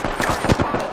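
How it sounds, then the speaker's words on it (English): Apex Legends gunfire cracks in a quick burst of several close, loud shots within about a second, with no talk over it. "Hey, I'm getting shot."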